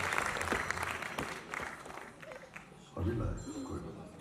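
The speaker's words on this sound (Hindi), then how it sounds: "जोरदार तालियां सभी सॉन्ग स्पॉन्सर्स को" Audience applause at a grand musical show honouring a singer's songs, a burst of clapping that fades into scattered claps, then rises again briefly near the end over faint background voices.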